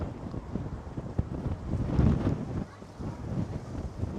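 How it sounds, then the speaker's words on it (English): Steady gusts buffet a microphone outdoors on the Blackpool seafront, a broad low rumble that rises and falls, loud and continuous with no speech. "it's actually got a little bit windy now"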